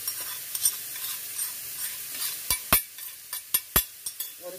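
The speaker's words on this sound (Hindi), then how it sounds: "और इसको अच्छे से मिक्स कर देंगे।" Carrot halwa frying in a kadhai, a soft continuous sizzle with a spoon stirring and scraping, followed by a run of sharp metallic clinks against the pan near the end.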